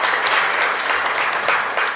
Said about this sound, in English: I think we can give John another one